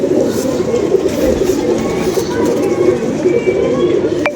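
Several pigeons coo continuously and fairly loudly nearby, their low, rolling calls overlapping throughout.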